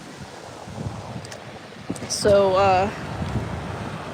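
Ocean waves and wind at the shoreline of Ocean Beach, a steady broadband wash of surf and gusting air, with a person briefly speaking partway through.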